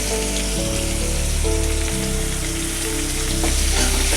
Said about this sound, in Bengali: সবজি ভেজে একটু লাল করে হালকা করে, তারপর পরিমাণ মতো পেঁয়াজগুলো দিয়ে দিলাম।